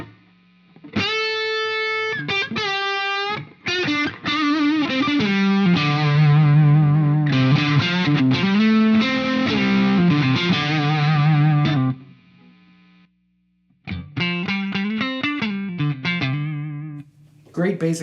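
Electric guitar on the neck pickup through a Soldano Super Lead Overdrive pedal, played in loud distorted chords and riffs with short pauses and a brief silence before more phrases.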